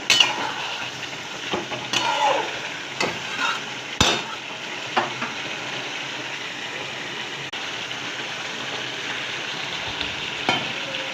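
Chicken with garam masala sautéing in oil in a pan, a continuous close sizzle and fry hiss broken by intermittent scrapes and knocks of a spoon stirring against the pan, with no talk.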